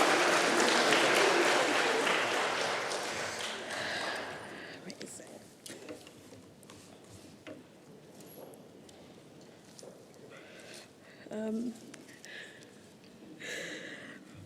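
An audience at an award ceremony claps loudly at first, then the applause thins into scattered claps and fades while a person talks softly over it.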